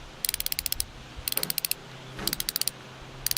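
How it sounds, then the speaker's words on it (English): An Icon hand-tools ratcheting wrench clicks in four quick bursts of sharp, close metallic ticks, each run of rapid clicks separated by a short pause, with no voices. "so now for the ratcheting wrenches, let's listen to the mechanism."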